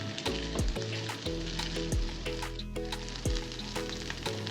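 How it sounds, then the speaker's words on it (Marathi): Potatoes frying in oil in a pan over a medium gas flame give off a steady, close sizzle that runs throughout, with a tonal background layer and occasional sliding tones over it. "आता हे तेलामध्ये छान फ्राय होऊन देऊयात आपण थोडंसं गॅस मिडियम करायचं आहे"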